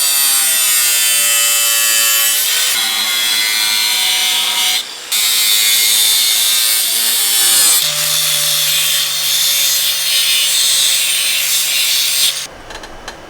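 A power tool cutting metal for a custom bracket on a wrecked Honda CBR600RR being rebuilt: loud, continuous high-pitched grinding whine with shifting pitch and a short dip midway, close up, with no talk.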